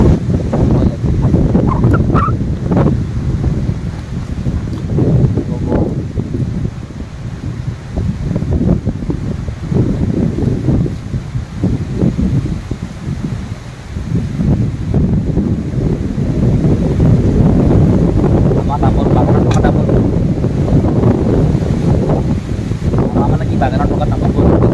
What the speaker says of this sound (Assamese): পুৰা বতাহত একদম তামোল গছবোৰ ইফালৰ পৰা সিফালে, সিফালৰ পৰা সিফালে লিলিং লালাং কৰি গৈছে।